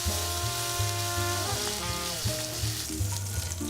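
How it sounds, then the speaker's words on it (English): Meat sears in a hot pan as it is turned, making a dense, close, crackling sizzle that runs steadily, with tonal background music playing throughout. "Carefully rotate the meat to sear it evenly from all sides."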